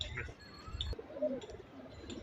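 A wild-type pigeon brought to a racing tournament coos softly in a few low, rolling phrases, with faint chirps and background noise around it.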